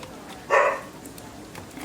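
A single short dog bark rings out, then faint background noise follows.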